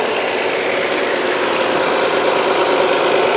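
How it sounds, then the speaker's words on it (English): A 2001 Audi S4 Avant quattro with ignition coil conversion idles steadily after a cold start, a loud, constant close-up engine drone and hiss with no talking. "Idle high. Warms up. Idles down."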